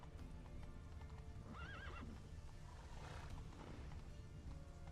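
Roach, the horse in Witcher 3, gallops in a steady, close clip-clop rhythm and lets out one clear neigh partway through, with the hoofbeats continuing underneath.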